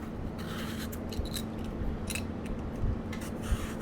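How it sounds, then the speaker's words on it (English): A peeler drags down the side of a cucumber in short scraping strokes, several quick rasping swipes close up and fairly quiet over a low background hum. "I like to just take the peeler and just make some strips going down the side"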